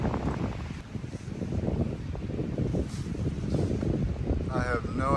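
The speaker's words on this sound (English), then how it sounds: "that's the wind coming through. You can see the trees blowing." Wind gusts through the trees in a windy valley beside a lake, a heavy low rushing roar buffeting the microphone throughout while a person talks over it.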